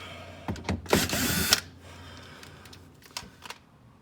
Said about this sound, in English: had to take a few extra bolts that held the bottom there together